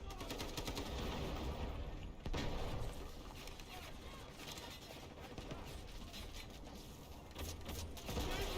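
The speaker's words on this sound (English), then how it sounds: "Grenade launch!" Rapid bursts of gunfire and blasts from a video game firefight, with a grenade launcher detonation among the dense, continuous crackle of shots, all fairly faint behind the player's voice.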